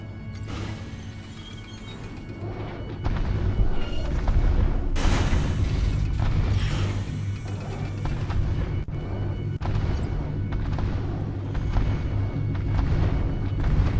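Defensive turrets and a Mechaplex firing in the survival RTS Dark Moon, a dense, continuous barrage of heavy booms, crashes and mechanical rumble that swells loudly after a few seconds, without talk.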